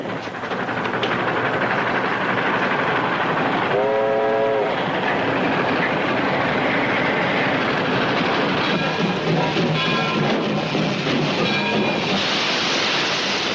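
A 1930s train rumbles along steadily and loudly with rhythmic clattering, while a horn sounds briefly in the middle and again near the end.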